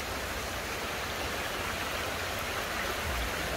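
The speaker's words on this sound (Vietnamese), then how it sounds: "Trời mưa nước nó nhiều quá, đổ chảy xiết luôn" A rain-swollen stream rushes along in a constant, full-bodied roar of water, loud and close, with no voices.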